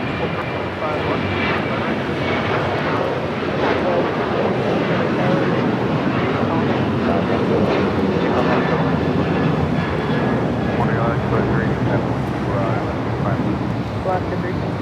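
A jet airliner roars continuously at LAX airport, a loud, sustained broadband engine rush that holds steady throughout with no break.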